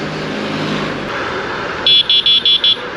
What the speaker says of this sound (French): Oh, le klaxon